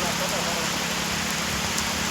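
Rain falls as a dense, steady hiss on surfaces, loud and unbroken throughout the short stretch, with a low engine-like rumble underneath.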